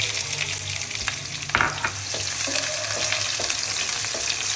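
Onion hits a hot pan with garam masala for a Bengali chicken curry, giving a steady close sizzle and crackle throughout, with a few brief scrapes and clinks of stirring on top, no voices.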